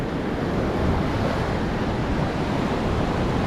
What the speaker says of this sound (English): The wind's blowing in. It's a red flag day.